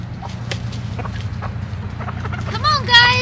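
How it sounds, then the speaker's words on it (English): Chickens cluck softly nearby in short scattered calls, ending with a louder burst of clucking and squawks close up. "While I am out here hanging out with the chickens this afternoon"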